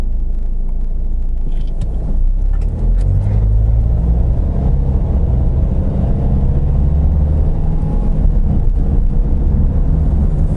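Hyundai-Kia car with a 2.0 or 2.2 diesel R engine cruising on a national road between Gwangju and Naju, a steady low engine drone and road rumble heard from inside the cabin, continuous and fairly loud throughout.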